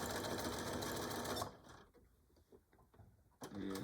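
A sewing machine stitches a denim phone pouch, its fast mechanical whir running steadily, then stopping into quiet handling noises before the rapid stitching starts again.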